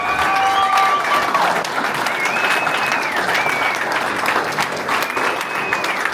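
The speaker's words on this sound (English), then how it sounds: "give Judge Pat Dugan another standing round of applause" Sustained applause from a standing crowd at an Election Day political event in Philadelphia, honoring Judge Pat Dugan: a dense, steady wash of clapping with some crowd cheering and whistles, loud and continuous throughout.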